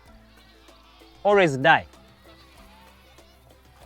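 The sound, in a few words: goats bleating on a farm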